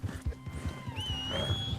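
In Red Dead Redemption 2, a White Arabian horse lets out a high, wavering neigh over steady clip-clop hoofbeats, fairly close and clear, with no talking.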